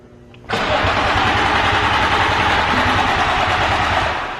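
A Nissan 350Z engine with a blown motor cranks and catches abruptly, then runs loud and rough for a few seconds before starting to sag and fade at the end.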